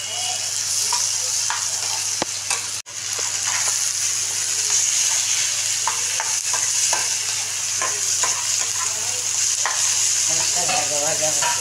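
Taro stolons fry in a pan with a steady, close sizzle and intermittent stirring scrapes, with a brief voice near the end.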